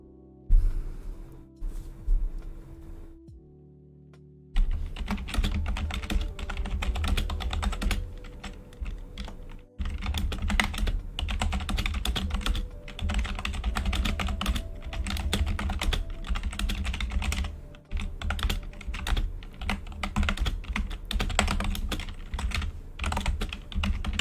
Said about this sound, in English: It's just me sitting here and typing.